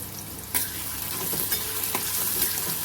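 Onion frying in a pan for a guar bean curry, with a steady close sizzle and sharp scrapes of a spatula stirring at intervals.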